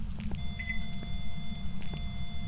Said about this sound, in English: was that beep? It sounded like a microwave